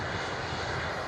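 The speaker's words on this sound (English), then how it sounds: "we also have another stunning A330 taxiing past our position here." Airbus A330 airliner taxiing past at an airport, a steady, loud broadband jet engine roar that holds constant without pause for the whole short stretch, with no voices over it.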